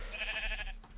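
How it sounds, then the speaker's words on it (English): Sheep in the Minecraft video game let out a single drawn-out, wavering bleat, close and clear with no talk over it. "I'm gonna take those sheep if they don't mind"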